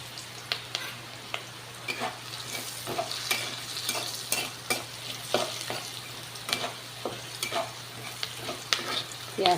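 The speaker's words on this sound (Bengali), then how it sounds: "পেঁয়াজটা ভাজা হচ্ছে।" Salted onions fry in a pan with a steady soft sizzle, broken by repeated scraping strokes of a spatula stirring them at an irregular rhythm, close by and without talk.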